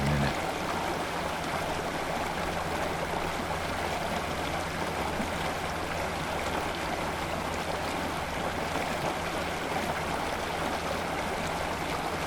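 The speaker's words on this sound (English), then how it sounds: "Now the stream is pretty much back to normal flow. Water levels receded. It's flowing nice." Water in a stream running through a scale model culvert after levels have receded makes a steady, even rushing and gurgling flow that stays close and constant throughout, with no voices.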